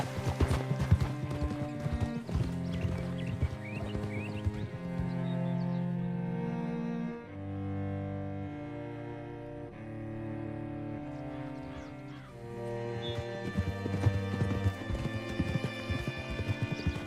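Horse hooves clip-clop steadily in Red Dead Redemption 2 beneath a loud, sustained orchestral music score, the rhythmic beats running throughout at moderate distance.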